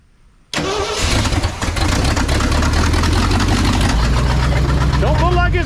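A 1968 Ford F250 pickup with a 360 FE V8 cranks briefly, then catches and settles into a loud, steady idle close by, with people talking over the running engine.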